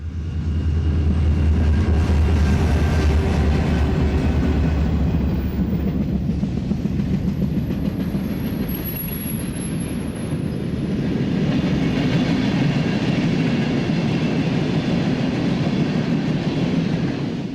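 A freight train led by a Jeep 40-2 locomotive rolls by steadily in Berea, a continuous low rumble with faint clacking of wheels, moderately close and without voices.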